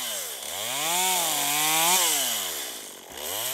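Chainsaw cutting branches high in a pine tree during a climb, a steady close engine whine that rises and dips in pitch under load as it bites through the wood, running alone for a few seconds.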